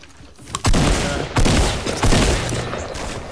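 Rapid bursts of gunfire from the video game Fortnite, several loud volleys of shots in quick succession, close and dominating the mix.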